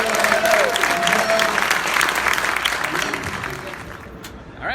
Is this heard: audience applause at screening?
yes